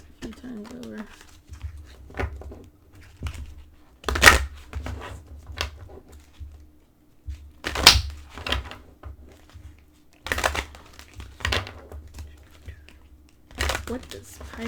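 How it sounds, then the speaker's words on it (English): Oracle and angel cards are shuffled by hand in several separate bursts of soft riffling and crinkling, spaced a few seconds apart, with quiet room noise between them. "let me shuffle these a few times over"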